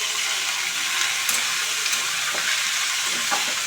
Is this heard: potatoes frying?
yes